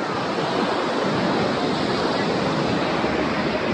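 Sea waves wash continuously onto a beach on an overcast day, a loud broadband rush with some wind across the microphone and no distinct individual breakers.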